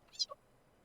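A cat gives a brief, faint high squeak, a quick two-part chirp that ends in near silence.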